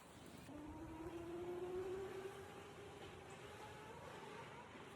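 A motorized bike passing nearby in a residential neighborhood, its engine whine rising in pitch then fading, faint and continuous under outdoor ambience, with other scooters and dirt bikes around.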